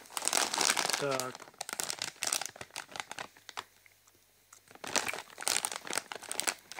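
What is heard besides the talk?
opening a bag of Zanuy cheese corn chips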